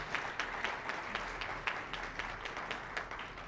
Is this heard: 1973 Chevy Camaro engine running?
no